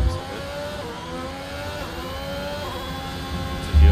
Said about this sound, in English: maar het is net zo'n Ferrari engine